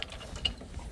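Metal clicks and a ratcheting scrape from a crescent wrench working loose a gas pipe fitting near an elbow, a few light close taps over a quiet background.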